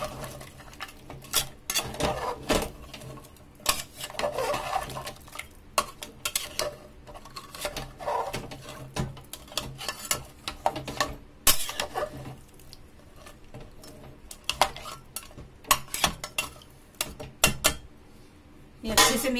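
Spoon stirring mutton korma masala with garlic paste and salt in a metal pot, irregular scraping clinks and knocks repeating throughout, close and fairly loud with no talk.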